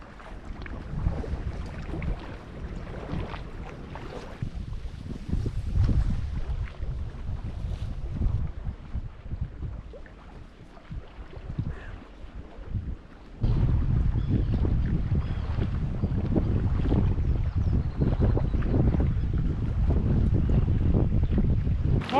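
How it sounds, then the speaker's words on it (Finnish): Strong wind buffets the microphone in continuous gusty roars on an island in Lake Päijänne during a kayak trip, with water sloshing beneath and a sharp surge in loudness partway through. "Tuuli on kova."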